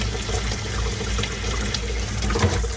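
Tap water runs hard into a pot being refilled to wash collard greens, a loud, steady gushing splash that holds constant for the whole stretch.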